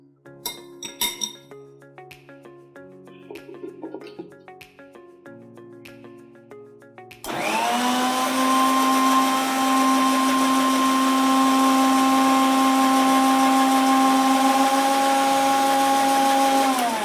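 A kitchen blender whirs loud and steady through a virgin pina colada, starting after several seconds of glassy clinks and handling sounds, then running continuously to the end.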